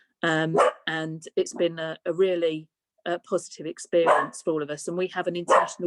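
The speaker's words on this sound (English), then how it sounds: "sorry about the dog" A dog barks in the background of an online political meeting. The short barks are partly masked by a person speaking steadily over them.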